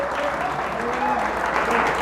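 A church congregation applauds to God during a sermon, a brief burst of steady, full clapping with faint sustained tones running underneath.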